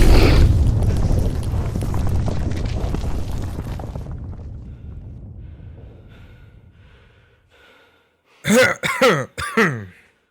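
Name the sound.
cough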